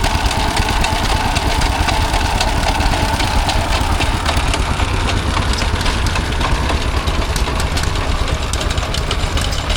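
A 1928 Vermorel Type V3 radiator-cooled stationary engine runs steadily at an outdoor rural show, a dense low chugging idle with continuous mechanical clatter throughout, close and loud, with no talk.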